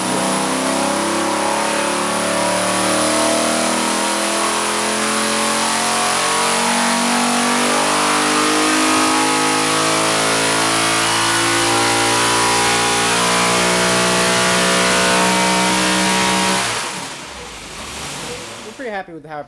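A Chevrolet LS3 V8 built with bigger valves and a smaller camshaft, revving loud and steady on an engine dyno with a rising, sustained roar that drops off near the end.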